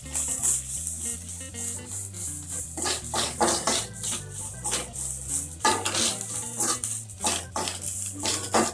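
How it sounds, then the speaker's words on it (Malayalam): Ginger, green chilies and 4–5 garlic cloves frying in a pan for Kerala-style puli inchi, with a steady sizzle broken by clinking stirs and scrapes of a spoon against the pan, close and continuous. "ഇഞ്ചി ഇടാം, പച്ചമുളക് ഇടാം, 4-5 ചുള വെളുത്തുള്ളി ഇടാം. നന്നായി വറക്കുക."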